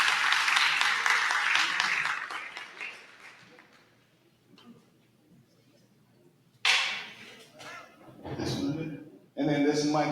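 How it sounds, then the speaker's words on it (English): Audience applause at a mayoral candidate forum in the City of South Fulton, a dense clapping wash that fades under a quieter stretch, followed by louder bursts of cheering and voices near the end. "Final round of applause for these candidates."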